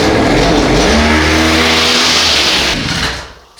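A gasoline brush cutter's small engine runs loud and close, a buzzy high-revving whine holding steady before dropping off sharply near the end.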